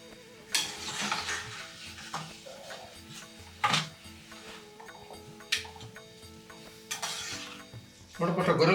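Coconut and cashews fry in hot oil in a home kitchen while a spoon stirs, giving a soft, close sizzle with scraping clinks every second or so and voices talking over it.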